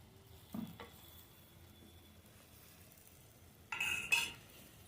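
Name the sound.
stirring ground spice mix into cooking greens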